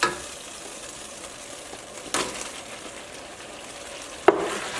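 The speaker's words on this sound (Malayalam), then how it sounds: "ഇതിലേക്ക് വറുത്ത് വെച്ചേക്കുന്ന ഉരുളക്കിഴങ്ങ് ചേർക്കാം" Potatoes, already fried, being stirred in a hot pan, a steady sizzle with scraping, and sharper clatters of the spoon near the middle and the end, with no talk.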